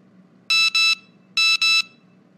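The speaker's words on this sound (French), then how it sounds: "C'est le téléphone de Paula. Elle a sans doute reçu un message." A mobile phone sounds a message alert as two pairs of short, bright electronic beeps, clear and close in a quiet room.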